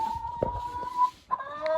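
A hen clucks close by in short, choppy bursts, with a steady high tone running underneath.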